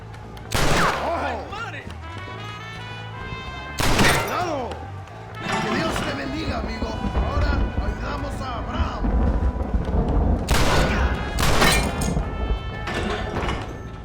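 Gunshots in Red Dead Redemption fired at locks ring out as several loud, sharp separate blasts spread across the stretch, with clanks and thuds between them and game music and ambience underneath.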